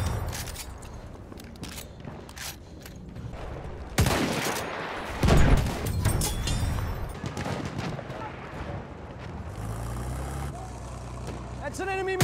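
Battlefield 1 battle ambience with enemy machine gun fire: rapid, dense bursts of shots at mid distance over a constant din of combat, a sharp loud crack near the middle, and a low engine drone toward the end.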